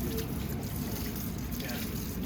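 A hose sprays water onto screen printing squeegees and floods during cleanup, a steady close hissing rush of water with no break, while someone talks over it.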